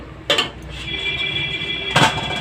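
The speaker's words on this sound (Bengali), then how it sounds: "ঢাকনাটা খুলে নেব" A metal lid comes off a pot of boiling banana peels with a sharp clank, followed by a lingering ringing tone and a second clatter as it is set down, close and fairly loud, no talking.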